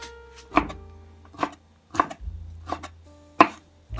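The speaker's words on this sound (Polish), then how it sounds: "I drobniutko kroimy." Cucumbers are cut finely with a knife on a board, giving about half a dozen distinct sharp chops spaced unevenly, close and clear in an otherwise quiet kitchen.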